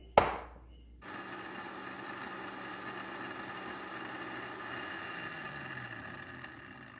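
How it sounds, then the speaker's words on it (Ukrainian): A blender whirs steadily, grinding about half a cup of dry ingredients to mix with sugar for a homemade hand scrub, starting abruptly after a short knock and running loud and continuous throughout. "Зараз ми з вами його переб'ємо в блендері"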